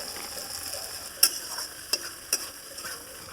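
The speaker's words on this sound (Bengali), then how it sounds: "ওই তেলের মধ্যে মশলাটা দিয়ে দিচ্ছি। মশলাটা দিয়ে নেড়ে নিচ্ছি।" Spices stirred into hot oil in a pan for a banana blossom curry (mochar ghonta) with potato and eggplant, a soft steady sizzle broken by a few sharp scrapes of the spoon, close and fairly quiet.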